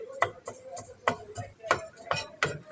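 A knife chops onion on a board in a quick, steady rhythm of about a dozen close, crisp cuts.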